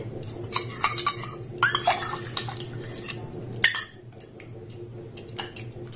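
Milk thickened with cornflour and agar powder being stirred in a pan over a low flame, with intermittent scraping and clinking of a spoon against the pan over a steady low hum, close and moderately loud.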